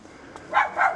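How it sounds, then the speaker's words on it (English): A neighbouring dog barks twice in a garden, two fairly close, loud barks about a quarter second apart standing out over quiet outdoor background. "And next door's dog, that's all that does is bark"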